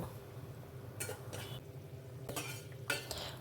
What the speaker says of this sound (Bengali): এইবার আমি এতে এক এক করে ভাজা মাছের টুকরোগুলো দিয়ে দেব